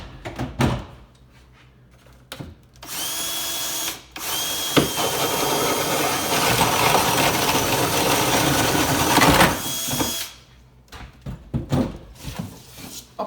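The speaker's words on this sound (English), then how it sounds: "Drill your holes as indicated by the paper template." A power drill bores holes for mounting a microwave, following a paper template: a few short whirring bursts, then one long, loud, steady run of about seven seconds, followed by more brief bursts and faint handling knocks.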